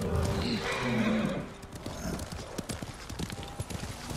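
Horse hooves clip-clop in the Ghost of Tsushima video game, a steady run of close, sharp footfalls that follows a horse's whinny, with game sounds underneath.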